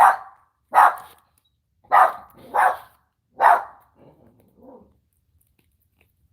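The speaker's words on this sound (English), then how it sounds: "This dog has problems." A dog barks in sharp, loud bursts, five clear barks at uneven intervals, then trails off into a few faint, softer yips before falling quiet.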